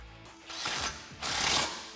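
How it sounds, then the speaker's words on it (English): Quick ratcheting clicks as a ratchet with a 10mm socket tightens a factory bolt on a brake line bracket of a Jeep Wrangler JK, heard in two close bursts with no talk. "resecure this brake line bracket using the factory bolt and tightening it down with a 10mm socket"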